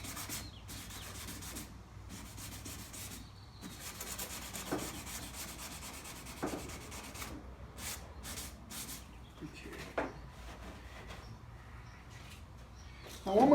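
Fine scouring pad rubbed over old, worn car paint with the clear coat gone, a steady close scratchy rasping that runs continuously with brief louder strokes, no talking over it.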